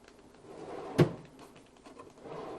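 A cabinet door is set onto the mounting brackets of a Rev-A-Shelf top-mount Rev-A-Motion pullout waste container. One sharp knock stands out in an otherwise quiet room.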